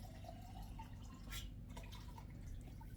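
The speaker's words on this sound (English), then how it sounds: "I'm just going to put some water" Tank water is poured into a blender jug, giving a faint, steady trickle and dripping with light splashes, quiet and close with no talk.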